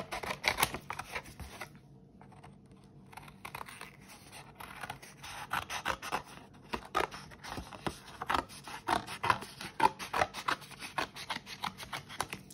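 Scissors cut a long, thin paper shape for a children's dragonfly craft. Quiet, close snips and paper rustles come in irregular bursts with short pauses between them.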